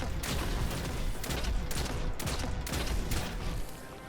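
Rapid gunfire from a weapon in the video game Destiny 2, a sustained burst of repeated shots running almost four seconds at steady close volume, with no talk over it.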